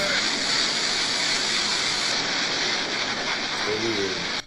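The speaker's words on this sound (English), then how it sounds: "It's water." Running water, a constant dense hiss-like gush filling the whole stretch at steady loudness, with a brief low murmur near the end before it cuts off.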